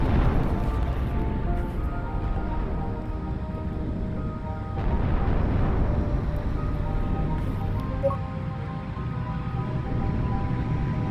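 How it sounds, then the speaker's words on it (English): A moon blown up in a video game by being shot with moons: a broad, rumbling blast roar that swells, dips midway and surges again, sustained and fairly loud with no speech over it. "Well, I blew it up."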